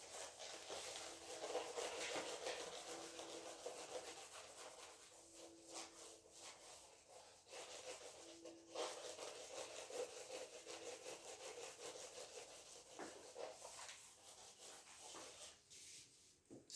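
Steady rubbing of a duster erasing a board during a rigid body kinematics lecture, a continuous scraping swish lasting many seconds with brief pauses, close and moderately loud, no talking.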